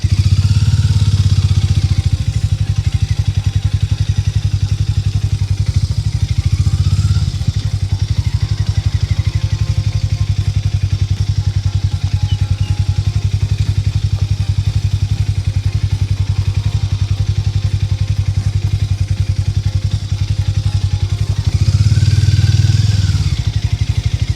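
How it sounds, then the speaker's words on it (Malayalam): A Hero Mavrick 440 motorcycle runs loud and close in a steady, unbroken engine rumble, with slight swells near the start and the end. "ഞാൻ വെറുതെ ഇതിലൊന്ന് ഓടിച്ച് കാണിക്കാം സ്റ്റാർട്ട് ചെയ്യുന്നു സിക്സ് ഗിയർ വാഹനമാണിത് ഫസ്റ്റ് ഗിയർ താഴേക്കിടുന്നു"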